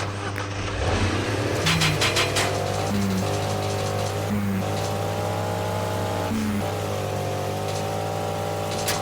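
A car in a PUBG-like video game drives and revs, its steady engine drone rising and falling through several gear shifts, close and continuous with no talk.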